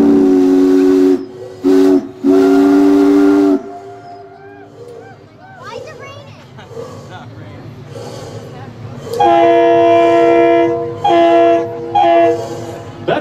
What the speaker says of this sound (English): We're going to say hello on our whistle.